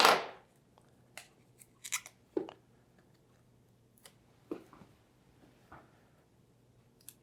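Label maker tape being cut indoors, a few short, sharp snips and small clicks spaced apart over quiet background hum.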